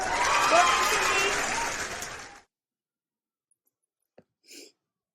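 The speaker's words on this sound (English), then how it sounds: "it's going to be like a random cheer sound" A crowd cheer sound effect plays on a livestream, a loud burst of cheering and clapping for about two seconds that cuts off abruptly into near silence, followed by a couple of small faint noises.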